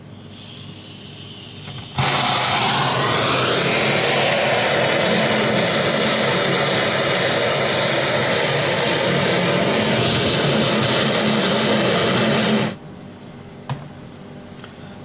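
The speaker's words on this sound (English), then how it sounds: "sprinkle it with sugar and then caramelise at the top with the help of the gas gun" A gas torch caramelises sugar on top of a Cambridge burnt cream, roaring as a loud, steady hiss that cuts in abruptly after a quiet start, runs unbroken for about eleven seconds, then shuts off.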